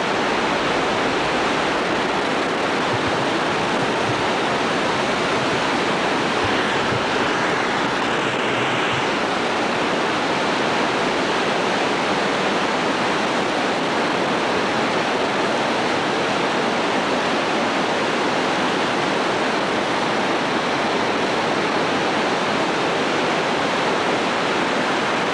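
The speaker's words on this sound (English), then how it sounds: "This is Lindhorst Rapids on the Yellowstone River." Lindhorst Rapids on the Yellowstone River, beside a road, give a steady, dense roar of rushing water that stays unbroken and fairly loud for the whole stretch, with no voices.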